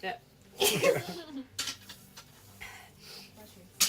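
A single sharp sneeze bursts out close to the microphone, followed by brief breathy sounds and a short spoken word from a person.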